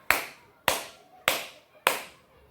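Four sharp hand claps spaced evenly about half a second apart, each with a quick attack and short decay, clear and close in a quiet classroom setting, keeping time with a steady count.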